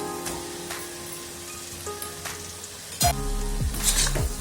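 Mutton curry cooked with tender tamarind leaves sizzles in a pan, and a louder burst of frying breaks out partway through as cut raw mango hits the hot oil, crackling steadily to the end.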